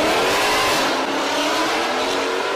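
A Mercedes C63 AMG with a 6.2-liter naturally aspirated petrol V8 roars loudly and steadily at close range, a dense continuous engine drone with a hint of tire noise, no voices.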